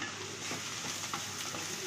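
Vegetables sauté with salt in a hot pan with a constant, dense hiss and soft stirring scrapes, close and without talk, while making ragi rava upma.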